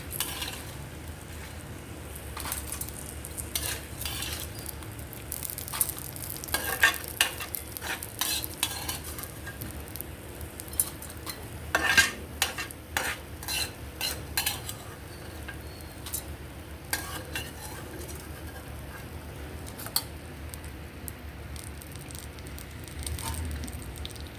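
Ingredients for coconut tomato chutney fry in a pan: a faint, steady sizzle runs underneath while a spoon scrapes and taps irregularly throughout, quiet and with no speech.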